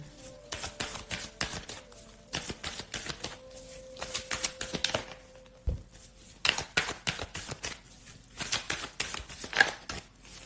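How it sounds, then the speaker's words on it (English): Tarot cards are shuffled and drawn, giving quick riffling and flicking bursts with soft slaps as cards land on a surface, close and fairly quiet, with short pauses between bursts. "I'm going to draw a couple of clarification cards."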